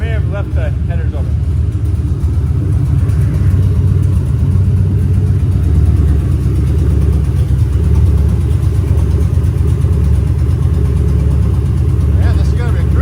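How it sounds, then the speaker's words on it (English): A Crown Victoria police car with a newly installed, untuned engine runs on open headers with no exhaust, a loud, raw, rumbling idle close by, with steady revving throughout; brief voices come through at the start and end. "Maybe I shouldn't be revving it because there's no tune in the thing, but it fires up."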